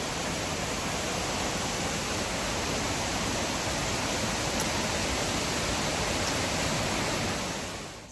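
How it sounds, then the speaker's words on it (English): Waterfall at Thundering Falls on the Appalachian Trail, a steady, dense roar of falling water filling the whole clip without a break, loud and continuous with no voices. "There's the waterfall a little bit right there."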